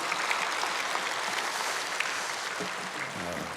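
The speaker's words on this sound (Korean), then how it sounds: "이렇게 좋으신 주님께 영광의 박수를 한번 올려드리겠습니다" Church congregation applauding during an early-morning prayer service, a steady, dense wash of clapping from a large crowd that stays loud and continuous throughout.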